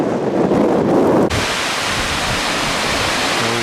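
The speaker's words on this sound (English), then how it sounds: "I figure you can't hear a word I'm saying because of the wind." Wind gusts roar straight into the microphone outdoors beside a waterfall in Iceland, a loud, dense rushing buffet that shifts abruptly partway through and then continues steadily to the end.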